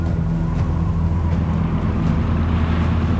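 Low, steady rumble of a boat engine at sea with wind buffeting the microphone and wash of waves, continuous and fairly loud throughout.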